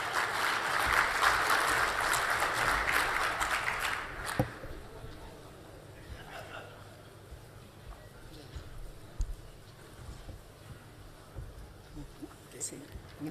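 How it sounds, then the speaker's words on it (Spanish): Seminar audience on grape growing applauds a speaker, steady moderate clapping for about four seconds that then stops, leaving a quiet room with occasional small sounds. "Recibimos a Carmen con un fuerte aplauso"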